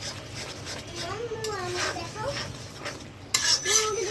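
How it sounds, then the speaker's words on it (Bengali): A spoon scraping and stirring ground spices — salt, turmeric, chili, coriander and cumin — frying in a pan, soft clinks and scrapes under a voice and adult talk, with a sharper clatter near the end. "এখন ভালো করে মশলাটা কষিয়ে নেব।"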